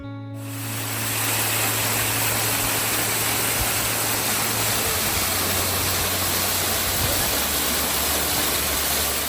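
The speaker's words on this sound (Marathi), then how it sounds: "ही शांतता भंग पावते ती धबधब्यांच्या आवाजाने" Waterfalls along a mountain ghat road pour out a loud, dense, continuous roar that fills the clip without letting up, with a faint low hum underneath.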